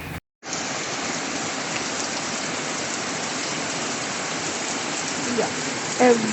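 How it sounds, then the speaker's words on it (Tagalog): Heavy rain pours steadily in a dense, even hiss that starts abruptly after a brief gap and continues loud and unbroken, with a couple of faint voices near the end. "Heavy rain. You cannot see the mountain there anymore. It's really heavy."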